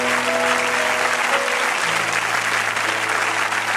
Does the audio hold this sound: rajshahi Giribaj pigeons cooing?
no